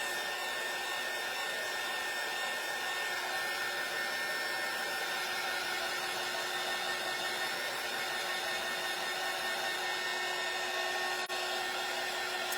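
A hair dryer runs steadily and loudly throughout, drying a painted door hanger craft, with a constant broadband whoosh and no talk.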